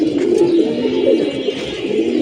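Pigeons coo in a low, throaty, overlapping chorus close by as they settle back into their nest boxes after a long flight.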